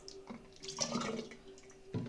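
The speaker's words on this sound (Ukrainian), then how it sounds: "будемо наливати в банки трьохлітрові" Grape and raspberry wine liquid is poured into three-litre jars, making faint close drips and a short splashing trickle in a quiet room.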